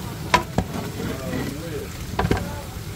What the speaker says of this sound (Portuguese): Isto é fritar.